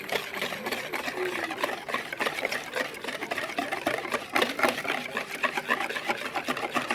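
Wet muffin ingredients, including syrup, coconut sugar and baking soda, whisked briskly in a bowl, making a close, steady stream of rapid clicking and scraping strokes.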